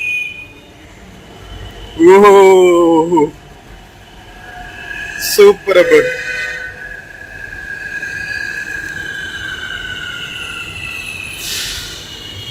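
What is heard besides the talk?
Hyderabad Metro train arriving and running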